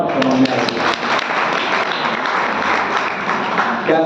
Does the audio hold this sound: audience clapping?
yes